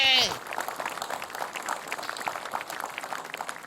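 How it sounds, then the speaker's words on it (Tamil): Studio audience at a kids' TV show claps after a brief voice at the start, a light, scattered applause of many hands continuing evenly at moderate volume. "எல்லாருக்கும் ஒரு சூப்பரான கைத்தட்டல் குத்தலாங்க."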